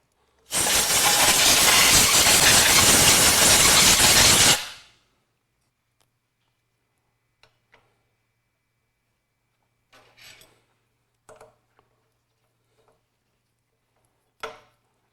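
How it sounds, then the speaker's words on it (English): Cleaning the threads of a Ducati ST3 motorcycle fork: a steady, loud rasping scrape runs for about four seconds, then stops, followed by a few faint scattered clicks and knocks in near silence. "Let's clean the threads out."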